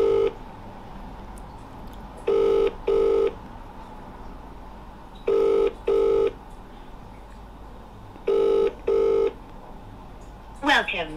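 Telephone keypad tones sound in three paired bursts, evenly spaced, as a call is placed, then a short electronic blip at the end over faint background hiss.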